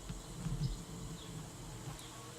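Honey bees gather at a hive entrance, making a faint, steady buzzing drone that carries on without a break.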